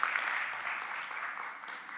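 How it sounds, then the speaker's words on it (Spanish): A church congregation claps together for a couple of seconds, a moderately faint, dense wash of applause with no clear speech over it. "¿Por qué no le da un fuerte aplauso al Señor?"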